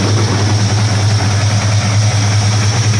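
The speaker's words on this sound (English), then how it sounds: "Well, I'll show you the engine first." A freshened 1984 Chevy C10 truck engine with a new oil pump, cam and lifters idles steadily and loudly up close, a deep, even hum with constant vibration and no voices.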